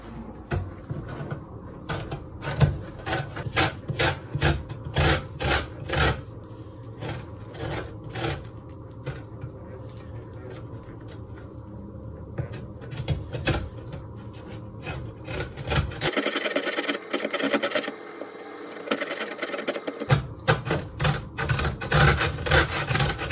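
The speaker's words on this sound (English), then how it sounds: "Next step is to grate the lemon." Lemon rasped against a grater in quick, repeated strokes, close and crisp, with a short run of denser scraping and pauses between bursts.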